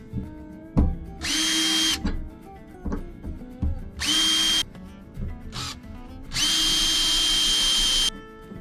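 Power drill boring holes into the back of a pickup truck cab, whining in three steady bursts of varying length, with clunks and handling knocks between them, close and fairly loud.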